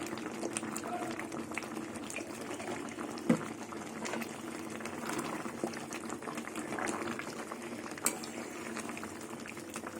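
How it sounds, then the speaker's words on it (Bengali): Curry bubbling steadily in a pot, a soft continuous simmer with occasional louder pops, close and moderately quiet, no talking over it. "আর একটু ফুটিয়ে নিয়ে নামিয়ে দেবো"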